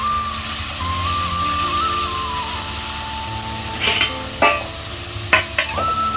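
Spices fry in a pan for a vegetarian soybean muitha, giving a steady close sizzle. Scattered clinks and scrapes of stirring sit over a thin high tone near the end.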